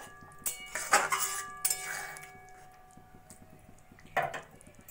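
Spoon knocking and scraping in a pan of kofta curry as it is gently stirred, several clear clinks in short bursts, close by, with quiet pauses between them.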